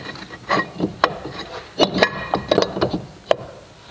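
Caliper bracket bolts being started by hand and tool on the front hub of a 2000–2005 Buick LeSabre, giving a few scattered metallic clicks and ratchet-like ticks over a quiet garage background, with no talking.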